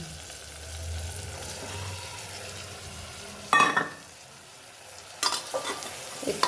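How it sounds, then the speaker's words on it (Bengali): Soybean chunks fry with onion, capsicum and tomato in a pan, a soft sizzle under two sharp bursts of spoon stirring and scraping against the pan. "একটু নাড়াচাড়া করি"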